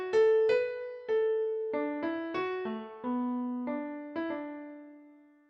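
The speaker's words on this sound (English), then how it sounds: "it started in its simplest form as just a couple chords on the piano and a distinct melody" Solo piano plays a few chords and a distinct melody, the simple early form of the Little Vikings theme; about ten clear struck notes in a moderate rhythm, the last one ringing out, with no talk.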